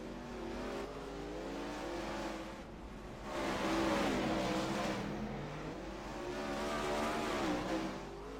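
410 sprint cars race around a dirt track in a series feature, engines roaring continuously with surging revs as the pack passes, loud and steady throughout.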